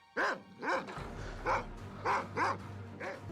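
A dog barks repeatedly and close by, about six sharp barks in an uneven rhythm, with a low hum underneath.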